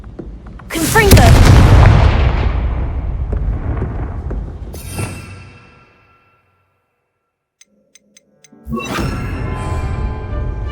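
Confringo blasting spell in Hogwarts Legacy gameplay: a heavy booming explosion that rolls and decays over several seconds, then a few faint ticks in near silence before a second loud blast hits.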